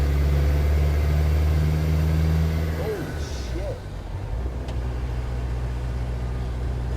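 Cummins turbo diesel engine running in a 1949 DeSoto: a close, steady low diesel rumble for about three seconds that then drops off to a quieter, fainter running sound.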